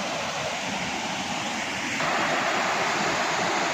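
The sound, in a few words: waterfall flowing down into a river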